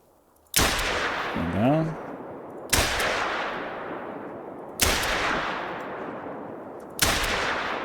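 Four loud pistol shots ring out at a shooting range in the hunting game theHunter, spaced roughly two seconds apart, each a sharp crack with a long echoing decay; someone speaks briefly between the first two.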